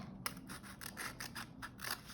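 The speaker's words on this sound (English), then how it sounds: "I used that hole as a place for my scissors to get in so that I could cut around" Scissors snip around a cardboard craft truck made from recycled materials, a quiet, close sequence of repeated crisp cuts and scraping blade strokes in a steady rhythm, with no talking.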